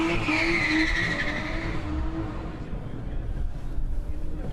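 Car tyres squeal loudly for a couple of seconds over a revving engine as they are warmed up before a start, then the sound fades into a low rumble.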